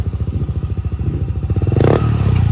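A motorcycle is started and checked after a CVT setup: rhythmic pulsing idle thumps from nearby, then a louder burst of revving with rapid firing pulses and rattling, no talking.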